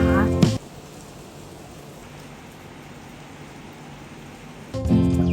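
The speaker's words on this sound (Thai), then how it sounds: "ฝนตกเฉยนะคะเมื่อกี้" A sudden rain shower falls on Koh Ngai, a beach island in Trang, Thailand, as a steady even hiss of rain. Brief voices cut in at the start and again at the end.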